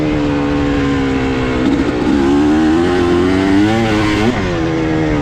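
A two-stroke dirt bike engine runs loud and close outdoors, its buzzy note rising and falling in quick revs over about five seconds, with no voices.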